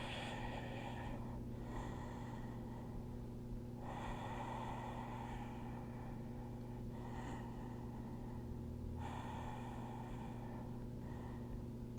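Slow, steady breathing during a yoga stretch, long audible inhales and exhales alternating in an even rhythm, close and soft over a constant low hum.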